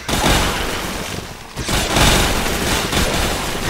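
Dense, loud weapon fire from a launcher and blade cannon in the zombie shooter game Dead Nation, rapid overlapping blasts and booms with a brief lull midway before the barrage resumes.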